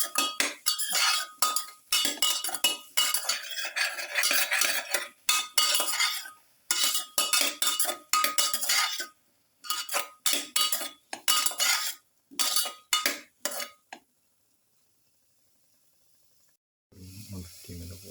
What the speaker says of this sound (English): Saute the pieces thoroughly with the rest of the mixture.